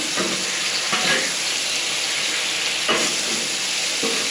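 Jerk chicken cooks in a hot pan, giving a steady close sizzle broken by a few brief scraping bursts as it is stirred and mixed. Nobody speaks.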